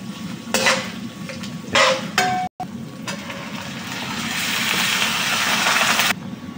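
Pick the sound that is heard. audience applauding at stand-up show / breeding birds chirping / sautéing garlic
sautéing garlic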